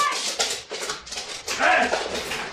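A dog whimpers and yelps in short, distressed cries after being struck, loud and close, in a brief burst with some background noise.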